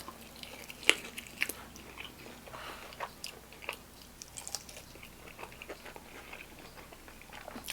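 Crunchy bites and chewing of Cheetos-flavored chicken wings, a series of sharp crisp crunches followed by softer, irregular mastication noises, close and fairly quiet with no talk.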